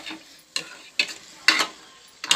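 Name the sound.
stirring masala and ginger paste into meat in a pan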